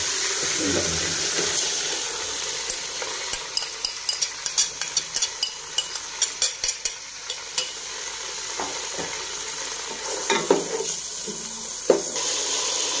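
Chicken fries in a pot with a splash of water for yakhni pulao, sizzling steadily while a spoon stirs in a run of sharp, regular scraping knocks, up close.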